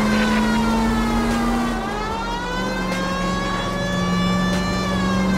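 A police car siren in the video game L.A. Noire, a steady wailing electronic tone with slow pitch sweeps, loud and continuous with engine noise beneath.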